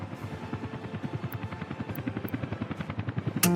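Helicopter hovering in the Soviet-era city-building game Workers & Resources: Soviet Republic, its rotor beating in a steady, fast low thump that holds at a constant loud level throughout, with a brief high click near the end.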